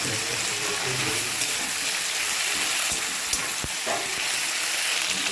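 Ground ginger, garlic and green chilli paste fries loudly in oil with potatoes, tomato and eggs for a Bengali fish curry, a dense, steady crackling sizzle close up, without speech.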